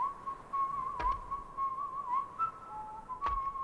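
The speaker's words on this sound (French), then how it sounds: "Mais c'est qui siffle? Je le connais cet air." Someone whistles a steady, wavering melody close by, with a couple of sharp knocks breaking in.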